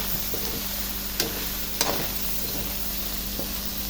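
Eggplant for pakbet crackles in a pan, making a constant close sizzle with a couple of brief spatula scrapes as it is stirred.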